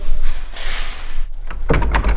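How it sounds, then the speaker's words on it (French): A church door rattles and thuds, a low rumbling vibration followed by a sharper knock and clatter near the end, fairly loud and close, with no voices. "ça fait bouger l'autre porte, ça la fait vibrer"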